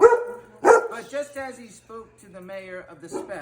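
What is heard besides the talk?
dog barking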